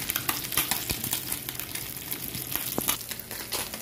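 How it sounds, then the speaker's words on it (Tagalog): Fish frying in a pan, a steady crackling sizzle with scattered pops and a few utensil clicks, moderately close and heard alone. "Meron din tayo dito piniprito isda."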